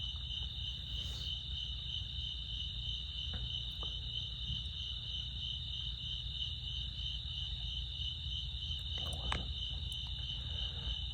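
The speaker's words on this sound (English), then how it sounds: "hearing all the frogs and crickets and birds and coyotes and stuff" Night chorus at Black Kettle WMA in northwest Oklahoma: crickets trill steadily in a continuous high drone, with frogs and faint, occasional bird calls mixed in across the open landscape.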